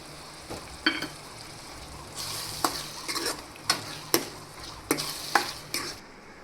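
Tomato puree fries in a pan for palak paneer gravy, a soft steady sizzle broken by a series of sharp spoon scrapes and clinks as it is stirred, close and fairly quiet.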